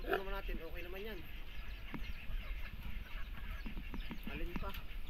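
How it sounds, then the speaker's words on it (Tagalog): Chickens cluck on a rainy farm beside penned pigs, with a few short clucks and calls scattered over steady background noise, fairly quiet and at mid distance. "Yan, mga manok."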